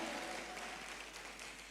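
Church congregation applauding and cheering, a steady dense wash of clapping that stays fairly quiet and distant throughout, with no clear voice standing out.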